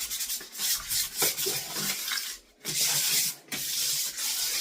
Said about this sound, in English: I've got old paint inside the bowl here that could use some sanding.